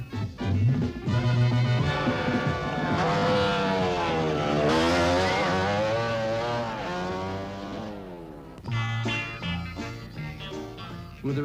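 Several motorcycles race through a town streets in 1971, engines loud and continuous with rising and falling pitch as machines pass close by, a brief dip before another bike roars in.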